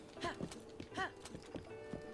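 Horse hooves clip-clopping in an uneven rhythm in the video game The Legend of Zelda: Breath of the Wild, about seven or eight distinct hoof strikes, fairly quiet with a faint background hum.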